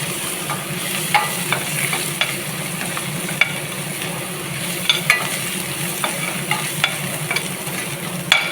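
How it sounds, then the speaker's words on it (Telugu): Ginger garlic paste frying in hot oil with mustard seeds, cumin, curry leaves and mint, heard as a constant dense sizzle with light intermittent stirring scrapes, close up and without talk. "అల్లం వెల్లిగడ్డ పేస్ట్ వేసి"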